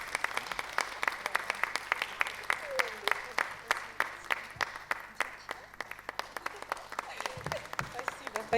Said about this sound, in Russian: аплодисменты Маше.